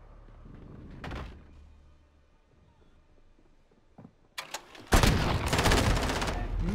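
Grenade blast in a video game: after a few scattered thuds, a loud broadband explosion erupts and rolls on with sustained rumbling debris, close and dominant, with a quiet voice earlier.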